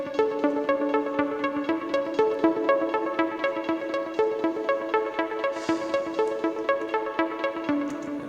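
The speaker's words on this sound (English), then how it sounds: "for the plugs I've used the REFX Nexus dance sequence" A REFX Nexus dance sequence synth patch plays a steady arpeggiated pattern of bright, pulsing notes with an even rhythmic repeat throughout, heard alone with no voices.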